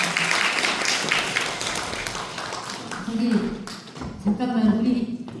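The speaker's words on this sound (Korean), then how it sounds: "사랑과 목소리로 영광을 누려주신 유정선 강사님께 뜨거운 박수 부탁드립니다." Audience clapping for a lecturer at a women's committee event on ESG and gender equality, a steady mass of claps through most of the stretch, mixed with voices and murmured talk that rise toward the end.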